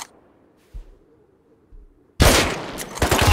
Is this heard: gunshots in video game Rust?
yes